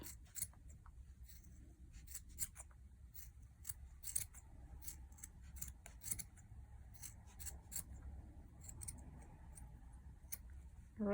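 Scissors snip repeatedly while trimming a yarn pompom, giving quick faint crisp cuts in an irregular rhythm close by and alone.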